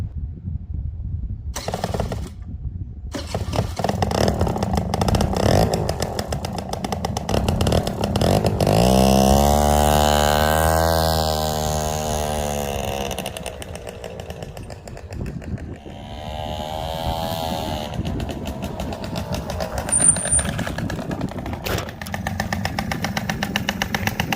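A 1985 Honda Vision NE50 scooter is brought to life on its electric start, with a starter whirr that catches into a rising two-stroke engine note, then settles into a steady, close idle with small fluctuations.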